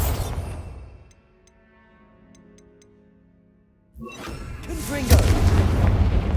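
The Bombarda spell in Hogwarts Legacy goes off as a deep booming blast. Faint ticking comes before it, and a loud rumbling explosion with crackling debris follows. No voices are heard.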